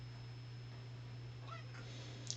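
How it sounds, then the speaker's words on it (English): A pet cat meows faintly twice in quick succession, soft and somewhat distant over a steady low electrical hum indoors. "That's my cat Mufasa"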